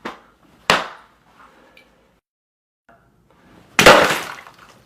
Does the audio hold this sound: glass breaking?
yes